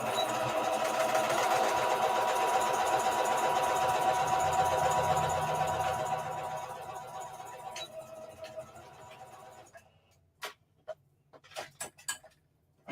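A sewing machine stitches a reversible bucket hat with a steady, close mechanical whir for about six seconds, then slows and fades, followed by isolated clicks and taps.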